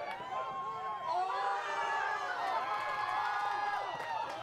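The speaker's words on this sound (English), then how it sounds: "Quick rise in the crowd there on the fake out far side." Crowd at a high school boys soccer game swells into a quick rising cheer, with shouts and whoops from spectators carrying over steady background crowd noise and some voices.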